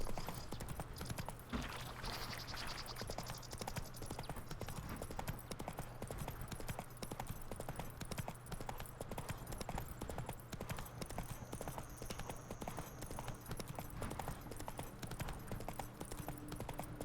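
Roach, the horse in The Witcher 3: Wild Hunt, trots on with a continuous, even clip-clop of hooves at moderate volume over a steady background hum.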